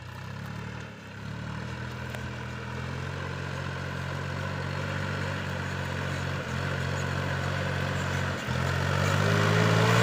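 Tractor pulling a new Bomet 1.8 disc harrow over dry, firm soil, its engine a steady low droning hum that grows slightly louder and stays continuous throughout.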